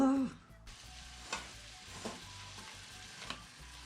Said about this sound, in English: So it says to just sear this for a few minutes.